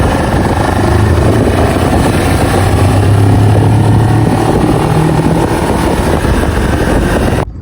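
A Moto Morini X-Cape 700 motorcycle drones loudly and steadily with its engine and exhaust running on the move, a continuous close rumble mixed with wind noise that cuts off abruptly at the end.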